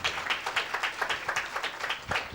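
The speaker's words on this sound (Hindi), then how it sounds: "एक जोरदार ताली देते हैं परमेश्वर के नाम की महिमा के लिए" Church congregation clapping in welcome, faint and fairly distant, with a loose rhythmic run of roughly a dozen distinct claps, some hands together in time, over a quiet room.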